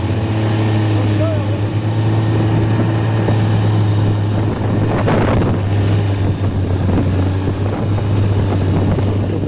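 Strong wind buffets the microphone at Bassivière in the Sancy massif, a constant rough roar with a low steady hum beneath and a louder gust midway, while a voice speaks over it.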